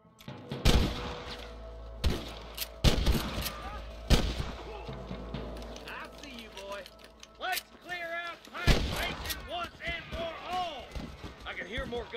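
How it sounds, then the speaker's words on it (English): Several loud gunshots crack out irregularly, some close together, amid shouting voices and mechanical clatter. "gunshots"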